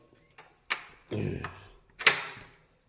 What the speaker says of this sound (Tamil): இது நுழைவாயில் கதவுகளை உறக்கின்றோம்